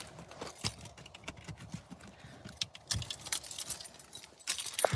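Car keys jangling in a dark van, irregular bursts of metallic clinks and rattles over faint handling noise, close by with no speech.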